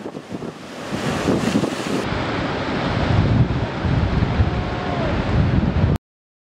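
Surf rolls in at the huge beach at Muriwai, New Zealand, a steady broadband wash of breaking waves roughened by heavy wind buffeting the microphone, no voices, ending abruptly.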